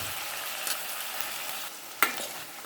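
Eggplant sautéing in a pan gives a steady low sizzle, with a few sharp scraping stirs near the end and no talking.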